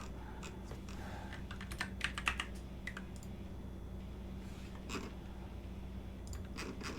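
Code is typed on a computer keyboard in faint, quiet bursts of rapid clicks, with short pauses between clusters of keystrokes.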